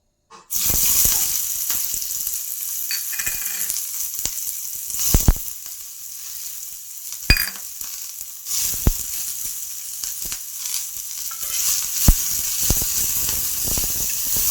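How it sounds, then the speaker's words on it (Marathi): Chopped vegetables hit hot oil on a pan for a homemade vegetable cheese pizza, crackling and sizzling steadily with sharp pops and occasional stirring scrapes, close and alone. "तेल गरम झालेलं आहे. त्यात आपण व्हेजिटेबल आपण जे कटिंग करून ठेवलेले आहेत ते टाकू"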